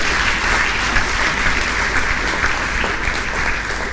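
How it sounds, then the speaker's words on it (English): Another round of applause from an audience at a live-streamed event, a thick continuous roar of clapping that stays loud and even from start to finish. "So please, let's give her another round of applause."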